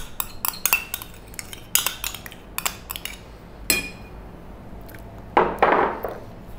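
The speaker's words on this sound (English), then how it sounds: "So in goes that mayonnaise." Potato salad being mixed as mayonnaise is spooned in, with close clinks and scrapes of a utensil against a bowl, a few light taps and a louder scraping burst near the end.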